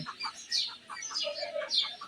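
A young chicken that cannot walk properly gives soft, repeated clucks and chirps in a quiet setting, short calls coming in an irregular rhythm.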